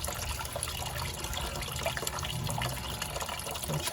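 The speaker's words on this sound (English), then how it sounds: "There's so much water coming out of there." Water pours steadily out of the rusty sill of a Sprinter campervan into a bowl, a continuous close splashing trickle with no talk over it.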